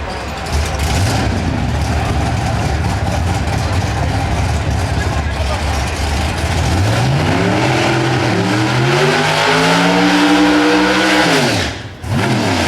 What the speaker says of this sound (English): The Albert race engines power Grand Am for Brown